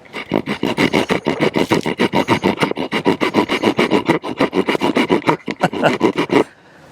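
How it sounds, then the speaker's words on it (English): A Boker Apparo survival knife carving a notch into wood, giving a close, loud run of rapid rhythmic scraping strokes, roughly four per second, that stop abruptly near the end. "let's see how well this one notches compared"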